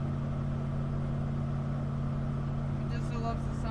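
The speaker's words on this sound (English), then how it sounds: "Just loves the sound of this truck." A truck drives along a highway, giving a steady, loud engine and road drone with a constant low hum throughout and no break in the noise.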